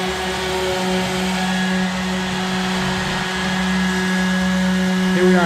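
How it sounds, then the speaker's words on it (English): An electric sander works over a scrap-wood pedalboard, a loud, steady whine and buzz running continuously up close with slight shifts in pitch. "Now, I'm just gonna sand it up."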